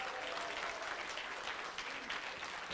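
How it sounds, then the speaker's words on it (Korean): Audience applause at a K-water innovation concert and awards event in Korea, a dense, steady clapping from a large crowd heard throughout, moderately distant and uninterrupted by voices. "축하의 박수를 부탁드립니다."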